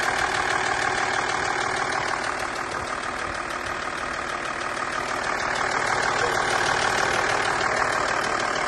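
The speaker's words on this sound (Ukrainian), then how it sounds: "Так працює машинка." An Audi 2.5 TDI diesel engine idles steadily after a repaired start, with a constant mid-pitched rumble and a faint knocking clatter running throughout, close and alone without talk.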